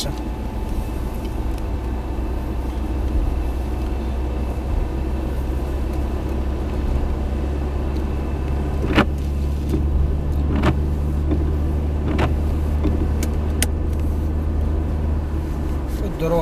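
Car driving along a city road on a driving exam route, a steady low engine and road rumble heard from inside the cabin, with a few sharp clicks and faint speech in the background.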